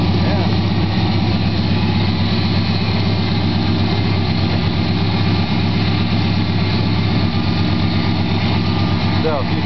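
A 1974 Dodge Coronet engine idles steadily and loudly just after starting, with a low continuous rumble throughout and people talking over it.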